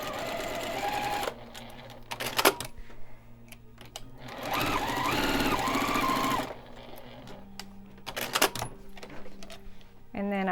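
Sewing machine stitching fabric coasters, several runs of fast stitching separated by pauses with handling clicks, close by, with a voice talking over parts of it.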